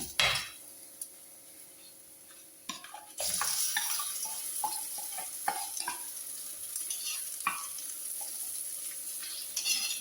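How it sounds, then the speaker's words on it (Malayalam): Ground paste goes into a fish curry in a hot pan. A sudden sizzle rises about three seconds in, then a steady frying hiss continues under scraping spoon strokes. "ഇനി നമ്മൾ അരപ്പ് അങ്ങ് ചേർത്ത് കൊടുക്കുവാണ്"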